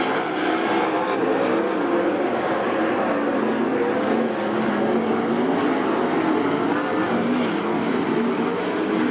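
Race cars roar around the track at Attica Raceway Park in a B main race nearing the white flag, a loud continuous engine drone with rising and falling pitch and no break.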